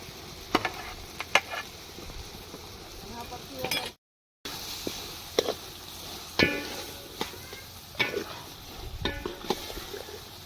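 Boiled potatoes are tipped into a pan of frying onions and capsicum for mung bean pulao, with scraping spatula strokes, light clatters and a faint sizzle, close up, with a brief gap partway through.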